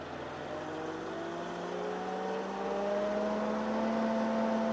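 A Dyna SC16 firewood processor's engine hums and gradually revs upward, a steady droning whir rising in pitch and loudness over about five seconds.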